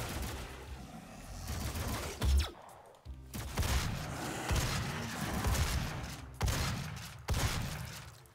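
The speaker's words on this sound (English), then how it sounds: "It's not always easy, when they are still shooting at me." Enemy gunfire in the classic first-person shooter Doom, with repeated bursts of shots and booming blasts in rapid succession, loud and continuous throughout.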